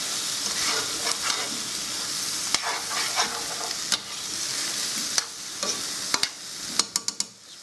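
Rice for chicken risotto frying in a pan while being stirred, with a continuous close sizzle and repeated scraping and spoon clacks against the pan, growing more frequent toward the end, no voices.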